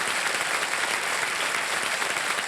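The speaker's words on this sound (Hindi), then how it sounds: "एक बार तालियां बज जाए इनके लिए" A television quiz show studio audience applauds steadily, dense continuous clapping that stays even in loudness throughout, with no voices standing out.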